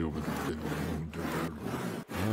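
A saw rasps through a tree trunk in the farming video game Farmer's Life, repeated back-and-forth strokes with a steady rhythm, loud and close, with short breaks between pulls.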